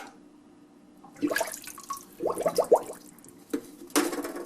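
Tap water running into a kitchen sink with a newly installed garbage disposal, splashing and gurgling in uneven bursts with a few louder surges toward the end, close by, no talking.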